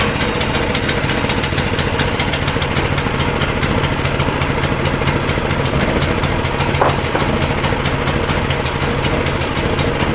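An abandoned mini bike's small engine runs after being restarted, a rapid, even, hammering putter that carries on steadily up close with no pauses.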